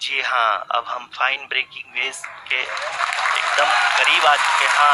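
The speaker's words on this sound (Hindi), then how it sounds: "Lot of applause indicates that till now the performance has been nominal." At ISRO mission control during the Chandrayaan-3 lunar landing, a commentator speaks in Hindi before loud, sustained applause swells up and fills the room.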